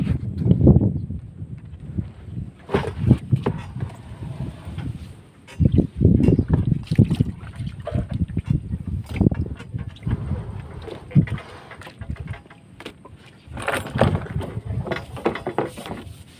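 Gusty wind at a fishing spot buffets the microphone in loud, low rumbling bursts that rise and fall throughout, with no one speaking.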